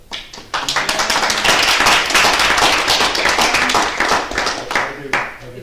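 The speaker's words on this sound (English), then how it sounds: "we should have waited on the applause till after the vote" Applause breaks out from the audience at a city council business meeting, dense overlapping clapping that swells quickly and holds steady and loud before tapering off slightly near the end.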